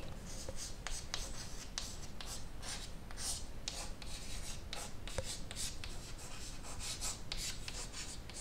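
Pen writing on paper, a soft continuous scratching and rubbing of quick strokes, close and faint, with no talk.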